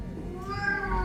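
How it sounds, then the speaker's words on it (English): A pet cat gives a drawn-out meow with a wavering tone, close to the microphone and fairly loud, with no talking over it. "Yes, that's my cat meow."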